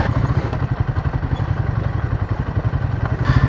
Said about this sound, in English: I can hear the fan kicking in on the Enfield.